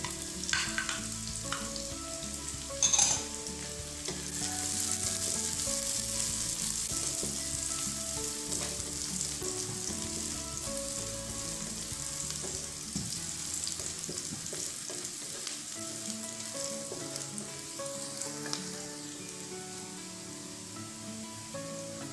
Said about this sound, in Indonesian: tumis sampai bawang layu. Kemudian masukkan bawang putih,